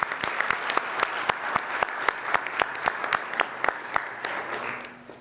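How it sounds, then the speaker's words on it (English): Applause from an audience at a chamber of commerce breakfast, thanking the dining staff: steady dense clapping with a few sharp individual claps standing out, fading slightly at the end. "Can we give them one more round of applause, please?"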